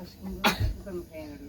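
A single sharp sneeze bursts out in a home kitchen while cheese-filled pastries are being served, set among brief conversational talk.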